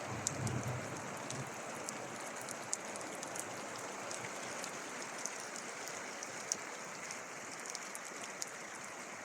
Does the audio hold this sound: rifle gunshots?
no